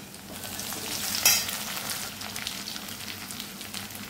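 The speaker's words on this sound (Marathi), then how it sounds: "आता यातच घालूया थोडासा कढीपत्ता" Curry leaves drop into hot oil with browned onions and garlic paste, giving a sharp burst of crackling sizzle partway through, then a steady close frying hiss with faint stirring.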